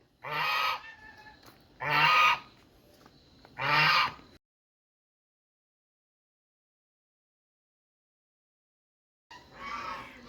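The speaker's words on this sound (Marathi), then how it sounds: "पहा मंडळी किती प्रेमळ आहेत हे पक्षी" Loud, close goose-like honks ring out in three spaced bursts, then near silence for several seconds before a fourth honk.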